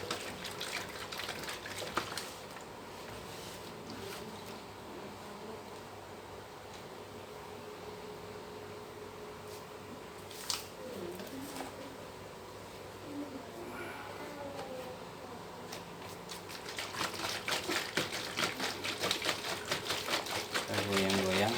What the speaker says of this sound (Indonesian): diaduk-aduk biar antara pupuk yang putih dengan yang hitam itu tercampur